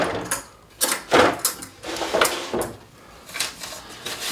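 A bottom drawer on the right-hand side slides open and shut, giving a handful of sharp wooden knocks and scrapes spread unevenly over a few seconds, close by with no talking.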